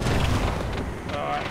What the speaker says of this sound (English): we've got mortars. There's chunks everywhere